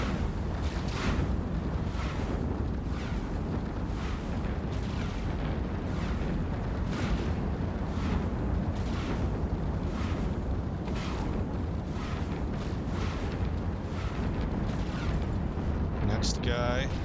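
Spark Needle Tesla turrets fire in EVE Online, a steady cadence of crackling energy bursts repeating roughly once a second over a constant low rumble.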